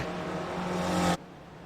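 Several race cars in a sim racing broadcast at Montreal, engines droning steadily at close range with a sustained harmonic whine, cutting off abruptly near the end.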